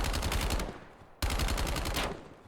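Rapid automatic gunfire from the video game Warzone, two loud sustained bursts separated by a brief pause, with no talking over them.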